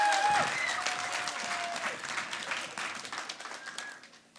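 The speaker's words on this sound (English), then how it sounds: "So can we have a big round of applause?" Audience applause after a call to welcome a speaker at the Merseyside Hope Hack, a dense burst of clapping that starts loud and slowly thins and fades over several seconds.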